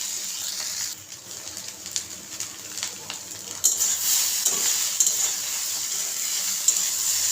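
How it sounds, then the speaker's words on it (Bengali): Noodles frying in a pan as masala is stirred through them, a bright hissing sizzle with soft scraping and tossing of a utensil, close and fairly loud, growing stronger about halfway through. "এখন মশলাটাকে নেড়ে মিশিয়ে নেব নুডলসের সাথে"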